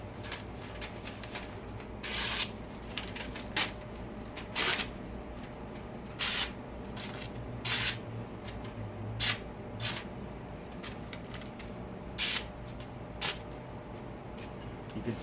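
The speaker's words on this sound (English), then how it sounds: "if you slide or drag the knife through the cut, it still slices really well" Spyderco Endura 4 folding knife dragged through sheets of paper after edge-retention testing, making a series of short, dry slicing rasps spaced every second or two over a steady low background hiss.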